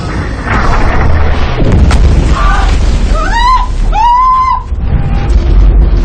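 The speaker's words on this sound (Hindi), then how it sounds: "महमद ने अपनी फौज को कमजोर हो चुकी दीवारों पर तोपों का हमला तेज करने को कहा।" Cannon fire bombarding the weakened walls of Constantinople in a historical TV drama about Mehmed, heavy booms rolling under dramatic music with brass swells.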